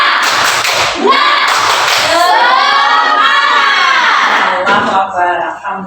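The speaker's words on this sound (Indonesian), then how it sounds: "kita mengawalinya dengan tepuk semangat terlebih dahulu" A classroom of children performs a rhythmic 'tepuk semangat' clapping chant, with loud group chanting and shouting over bursts of clapping throughout.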